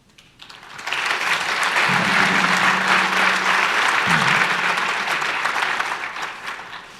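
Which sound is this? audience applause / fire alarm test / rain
audience applause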